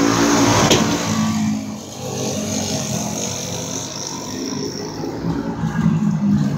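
Flathead-engine race cars accelerating on a dirt oval at the green-flag restart of a feature race, a loud, continuous engine roar with rising and falling revs from several cars at mid distance.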